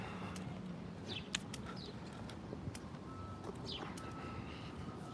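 Faint bird chirps and short calls repeat intermittently over a low, steady background hum, distant and quiet, with no talking.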